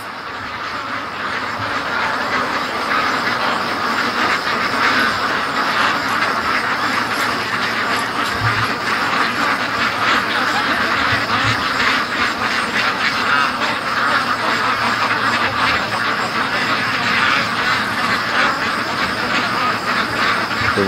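Pet ducks rushing home from the lake quack nonstop, a loud, thick chorus of many birds close by, with occasional low thumps underneath.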